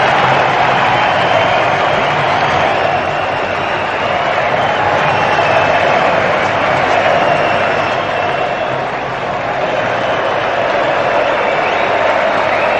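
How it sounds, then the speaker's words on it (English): Large cricket crowd at a one-day match between Australia and Sri Lanka applauding and cheering a great player, a steady, dense roar of clapping and voices sustained throughout, loud and broad. "Crowd also getting into the act and saluting a great player"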